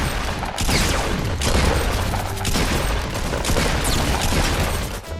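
In Fortnite, a double pump shotgun fires in rapid succession, with loud, close blasts punctuating a dense, continuous stream of gunfire and battle noise that barely lets up.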